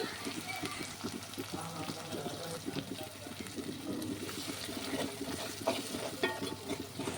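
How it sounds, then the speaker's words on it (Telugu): Fenugreek leaves frying and being stirred in a pan while a tomato fish curry is made: a steady sizzle with soft scraping stir strokes running throughout, fairly close, with faint background sounds. "మెంతి ఆకు కూడా వేస్తున్నాను వీటన్నింటినీ బాగా వేగేలాగా బాగా మిక్స్ చేసుకోవాలి"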